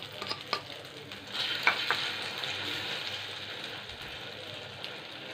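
Carrot omelet batter sizzles on a hot tawa, with a soft, steady frying hiss and a few light taps near the start. It is fairly quiet and close, and no one speaks.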